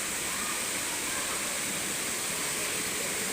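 Waterfall at full force at a Three Angels falls tourist spot, a dense, loud, unbroken roar of rushing water with no pauses.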